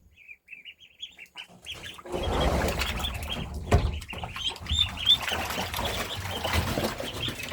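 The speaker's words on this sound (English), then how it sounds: "Well, the turkeys share this space with the ducks." High, repeated peeping chirps from ducklings and turkey poults, first alone and then continuing over a louder rush of water and scuffling nearby.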